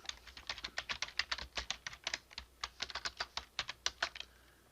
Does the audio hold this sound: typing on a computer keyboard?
yes